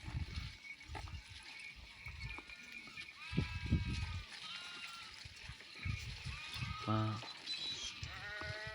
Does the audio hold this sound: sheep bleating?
yes